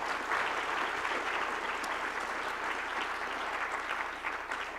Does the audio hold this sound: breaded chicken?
no